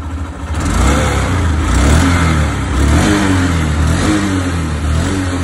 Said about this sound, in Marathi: आपण आता थ्रॉटल बॉडी आणि इंजेक्टर क्लीन करून बसवल्यानंतर गाडीची फायरिंग ऐकूया